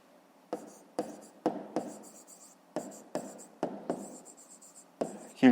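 A pen writes out a math solution by hand on paper, close up, in a string of short scratchy strokes with brief pauses between them.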